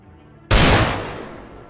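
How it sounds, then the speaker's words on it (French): A gunshot sound effect played during a Walking Dead tabletop role-playing session: a single loud, sharp blast that trails off in a long echoing decay, heard alone without voices. "Alerté par des coups de feu"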